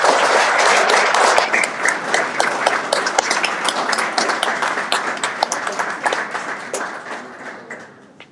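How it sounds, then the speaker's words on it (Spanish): An audience at a theological colloquium gives a strong round of applause, dense clapping that starts loud and gradually thins and fades away. "Damos un fuerte aplauso."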